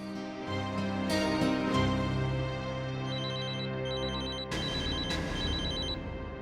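A landline telephone rings in a home, sounding repeated bright electronic trills in an even rhythm, clear and fairly close, with no one talking over it.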